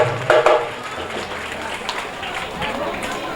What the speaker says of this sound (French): Applaudissez très fort pour les enseignants de l'école Sainte-Anne.